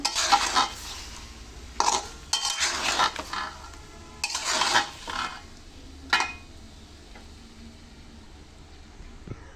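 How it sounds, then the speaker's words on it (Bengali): Ripe mango pieces for a ginger mango morabba are stirred into sugar syrup over low heat. Several short bursts of spoon scraping and a soft bubbling hiss come up close, with quiet gaps between them. "এক এক করে সবগুলি শিরার মধ্যে আমগুলি দিয়ে দেবো।"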